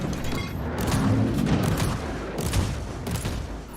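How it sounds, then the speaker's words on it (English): Heavy bolt gun fire in Warhammer 40,000: Inquisitor - Martyr, a dense rattle of loud booming shots and impacts layered over each other, continuous and close. "Let's see how long we take with the bolt gun there."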